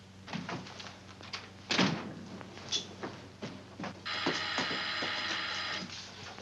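Back door in a home opening and closing, with a knock-like thump, latch clicks and a sustained rattling hum midway, heard fairly close with no talk.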